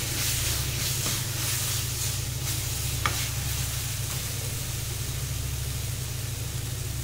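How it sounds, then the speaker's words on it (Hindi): Tomato paste fries with masala in a pan for a masoor dal bade dish, giving a steady, close sizzle with faint stirring scrapes throughout and no talking. "ये हम 2 टमाटर का पेस्ट डालेंगे। इसको भी हम 2 से 3 मिनट तक अच्छे से भून लेंगे।"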